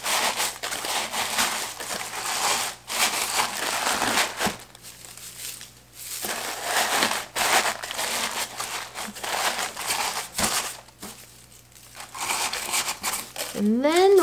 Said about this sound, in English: I have my holiday tissue paper, and we're just gonna tuck a little bit around the edges to fill in those gaps.